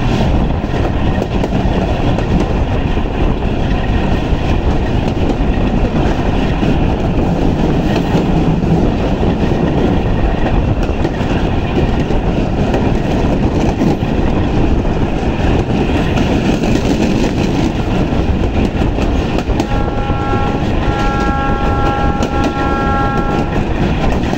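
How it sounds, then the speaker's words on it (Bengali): A passenger train runs on rails through a winter morning, heard from aboard as a loud, constant rumble and rattle of the carriages with rhythmic clickety-clack, faint squealing tones near the end, and no voices. "আমাদের ট্রেন চলতেছে সুন্দরভাবে"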